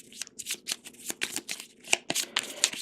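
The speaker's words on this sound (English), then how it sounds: "you're going to take the lesser vampires, all of the thrall cards, and all of the vampire hunters, and you're going to shuffle those together" Quick, riffled bursts of a deck of Vampires & Villagers game cards being shuffled, close and crisp, repeating in a fast rhythm with no talk.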